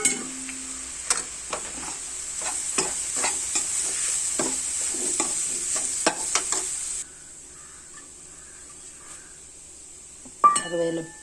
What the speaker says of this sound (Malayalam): ഇനി നമുക്ക് ഈ എടുത്ത് വെച്ചിരിക്കുന്ന തേങ്ങാപ്പീര ഇട്ട് കൊടുക്കാം